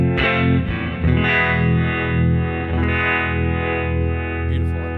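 Electric guitar played through the Reverb clone in Neural DSP's amp plugin with harmonic tremolo, sustained chords ringing with a lush reverb tail and pulsing wobble, loud and continuous with no talking.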